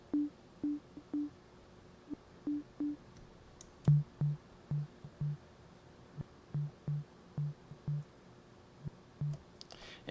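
Synthesized kick drum from the Massive synth in an electro drum loop, a steady pattern of short, soft, low pitched thumps repeating quickly, with a louder accent near the middle, quiet and alone.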